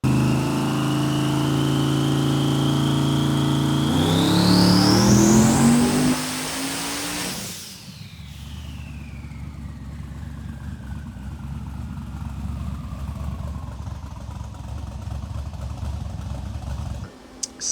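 A turbocharged car engine on a hub dyno at about 17 lb of boost climbs loudly and steadily toward 7,000 RPM, then cuts off abruptly into a lower, fading whine and idle.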